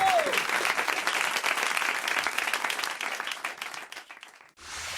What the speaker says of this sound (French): mon public m'applaudit